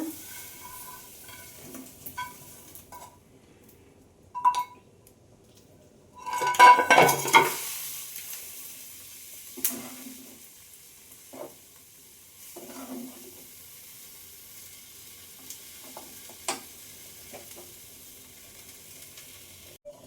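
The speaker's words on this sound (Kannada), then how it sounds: "ಇದು ಗ್ರೇವಿ ಕುದೀತಾ ಇದೆ" Gravy boiling and sizzling in a pan, a soft bubbling hiss with a brief louder burst of frying and occasional clinks of stirring utensils, mostly faint and close.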